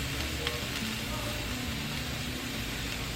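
Steak searing on a hot grill, a steady crackling sizzle that fills the short moment with a low hum beneath.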